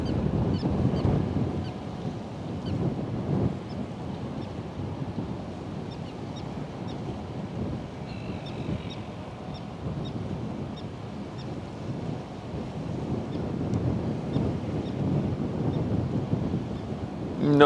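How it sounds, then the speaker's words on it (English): Wind blows at the Westerschelde waterside with a steady, gusty rumble buffeting the microphone. No one speaks throughout. "Wind is definitely picking up a bit, I would say, compared to how it was when I arrived."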